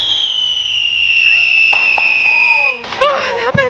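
Diwali fireworks in India: a long, loud whistling rocket tone glides steadily, then breaks into sharp crackling bursts and pops nearby, with people talking around them.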